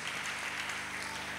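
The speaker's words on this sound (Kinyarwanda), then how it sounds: "Let's clap for the Lord." A church congregation claps for the Lord, a soft, continuous patter of many hands heard from a distance.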